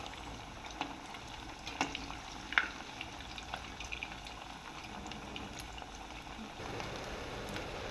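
Potato fingers deep frying in hot oil, a quiet bubbling fizz with scattered soft pops and crackles, close and without voices.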